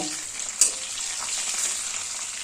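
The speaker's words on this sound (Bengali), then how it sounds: "মাছগুলোকে উল্টে পাল্টে লাল লাল করে ভেজে নেব" Steady crackling sizzle of rohu fish frying in hot oil over a low gas flame, continuous and close, with one brief louder pop near the start; no voices.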